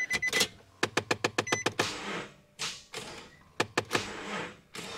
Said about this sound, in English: Blend door actuator is making some noise.